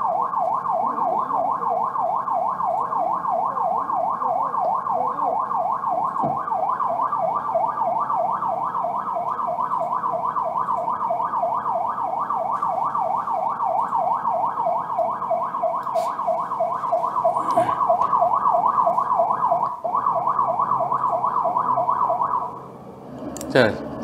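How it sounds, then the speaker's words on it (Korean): An ambulance siren wails continuously at close range during a roadside dispute after a taxi collision, its steady rising and falling tone holding loud for about twenty seconds before cutting off abruptly. "자, 사이렌 껐고요."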